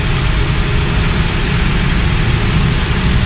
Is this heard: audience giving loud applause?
no